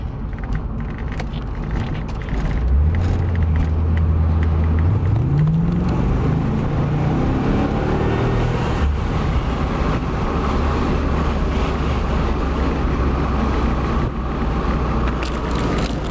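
A 1992 Corvette pulls away and turns, its engine note rising through a gear change into a steady cruising drone heard from inside the cockpit, with no talking.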